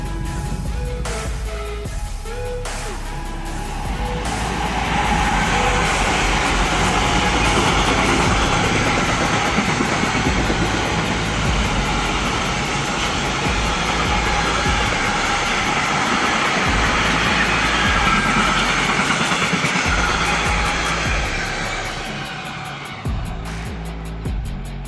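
A train pulls out of Lyon Perrache station, its broad rumbling hiss building and holding steady for about twenty seconds before fading, heard from on board without voices.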